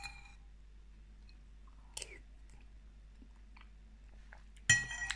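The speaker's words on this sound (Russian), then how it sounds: "давайте тестировать борщ" Tasting homemade borscht: faint chewing with a spoon clinking against a bowl, a sharp clink midway and a louder clatter near the end, close and otherwise quiet.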